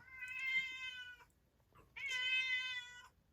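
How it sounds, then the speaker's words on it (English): A house cat gives two drawn-out, clear meows close by, each lasting over a second, separated by a brief quiet pause in an otherwise calm indoor room. "It's the cat."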